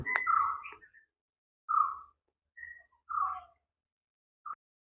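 Several short tonal bird calls sound from a moderate distance at an old fort built against the Zamorin, spaced out with silent gaps between them, clear against a quiet background.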